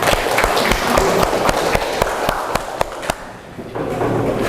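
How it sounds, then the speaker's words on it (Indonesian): Applause from a classroom of pupils after singing a song, dense uneven clapping with sharp individual claps standing out, fading slightly near the end. "Tepuk tangan untuk kita semua."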